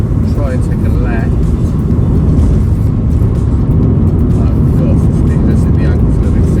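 A used 2001 Subaru Impreza 2.0 GX on the road, its engine and road noise a steady, loud drone throughout, with someone talking over it.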